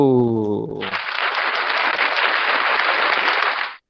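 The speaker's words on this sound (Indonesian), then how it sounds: "Tepuk tangan untuk Ananda Anggito." A voice speaks briefly, then a sustained wash of applause for a student in an online Indonesian language class plays steadily and evenly before cutting off abruptly.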